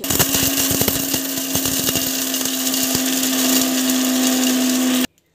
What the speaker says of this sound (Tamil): மிக்சியில் போட்டுட்டு நல்லா வந்து ஒரு கொஞ்சம் பதமாக வந்து அரைச்சிக்கலாம்